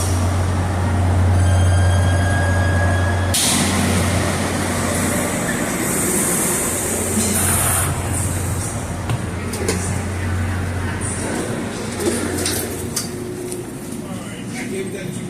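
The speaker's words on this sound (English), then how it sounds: "We're gonna be on this train for like 55 minutes." Commuter train ride toward Wayne Transit Center: a steady low rumble of the railcar with rattling wheels, brief squeals and clatter, a high tone early on, heard from inside the carriage.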